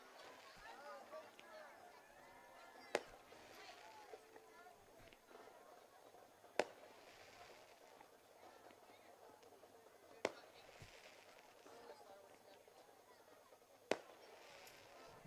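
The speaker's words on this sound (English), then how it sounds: "Well, the fireworks are going, but the game's not officially over, Clint." Fireworks burst early near the end of a high school football game between Central and Talihina, with four sharp distant bangs at regular intervals over continuous crowd noise and commentary.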